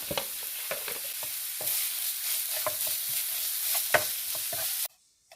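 Mustard, lentils, turmeric and salt sizzle steadily in hot oil while a spoon stirs and scrapes the pan in repeated strokes, making seasoning for Karnataka-style raw mango rice; the frying stops abruptly near the end.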